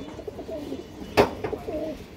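A domestic high-flyer pigeon coos softly in low, repeated murmurs close by, broken once by a brief sharp knock or flutter midway, with no talking.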